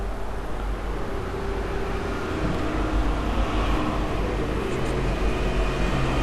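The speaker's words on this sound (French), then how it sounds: "Et là, il y a un tracteur qui passe" A tractor passes outdoors as a steady, loud low rumble of engine and tyre noise that holds for several seconds with no speech over it.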